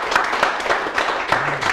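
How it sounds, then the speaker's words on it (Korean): Small audience at a lecture on social media marketing claps steadily throughout, a brisk, close patter of applause with no talk. "박수."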